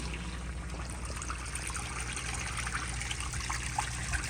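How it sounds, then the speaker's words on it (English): A 1954 Standard Chinal stall urinal flushes indoors in a restroom, with a steady, close rush and trickle of water running continuously throughout. "Here is another flush."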